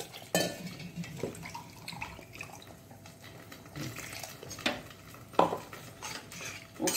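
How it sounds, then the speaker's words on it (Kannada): Water is poured into thick dosa batter for Kuchalakki menthi dosa and stirred in a bowl, with scattered clinks and scrapes of a utensil against the vessel and soft sloshing between the louder knocks. "ಅದಕ್ಕೆ ಇನ್ನು ಸ್ವಲ್ಪ ನೀರನ್ನು ಹಾಕೊಳ್ಳೋಣ"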